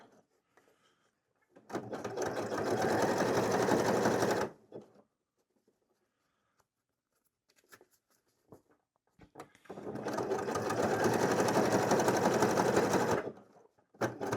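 A sewing machine set to a wide 7mm zigzag stitches in two bursts of about three seconds each, a close rapid mechanical whir and clatter separated by quiet pauses, sewing fabric for a cat bed.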